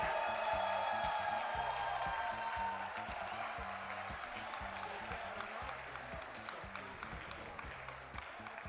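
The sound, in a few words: audience applause at awards ceremony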